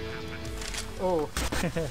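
A chicken squawks when shot in a first-person shooter game, a short harsh cry amid sharp game gunfire bursts, with a player's voice talking over it.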